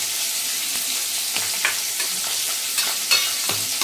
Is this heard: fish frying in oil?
yes